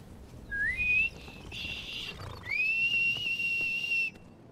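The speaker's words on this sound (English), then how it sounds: "I'm doing a wolf whistle." A wolf whistle from a player character in Skyrim Anniversary Edition: two clear, loud whistled notes, the first sweeping upward then holding, the second rising and sustaining longer, heard alone over a faint background.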